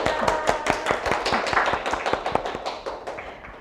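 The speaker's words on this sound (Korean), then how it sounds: "고생하신 연사님 위해 박수 한 번 더 부탁드리겠습니다" Audience clapping after a graduate-school lecture by a student speaker, a small group of hands with distinct, fairly close claps in a loose rhythm that gradually thins out.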